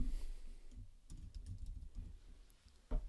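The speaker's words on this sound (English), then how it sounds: "and then type in the title." Computer keyboard typing while entering a job title into a contact form, a short run of quiet key clicks alone, with a louder tap near the end.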